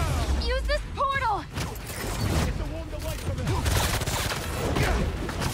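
Gunfire crackles in the action game Marvel's Spider-Man 2 amid busy combat noise and shouting game voices, with a player talking over the loud, rapid shots.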